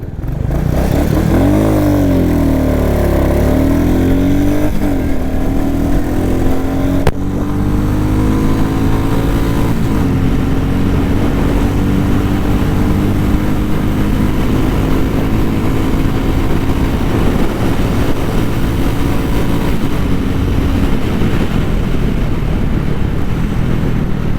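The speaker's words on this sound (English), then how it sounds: "So let's do a quick acceleration test on the newer Classic 350 and first gear." A single-cylinder 2022 Royal Enfield Classic 350 engine revs hard and climbs in pitch, dropping briefly at each gear change as it accelerates steadily from first gear, loud and close throughout.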